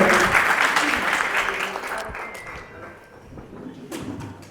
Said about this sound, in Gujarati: જોરદાર તાળીઓથી સ્વાગત કરીએ આપણે